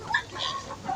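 A free-range village chicken recovering from cholera gives a few soft, short clucks at close range, faint against quiet outdoor background.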